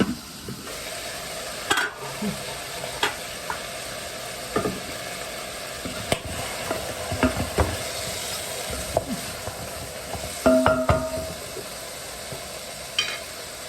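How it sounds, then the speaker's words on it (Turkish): Food sautés in a pan with a continuous low sizzle, punctuated by scattered utensil taps and scrapes at irregular intervals, close and moderately loud. "Canlarım bu güzelce sotelendi"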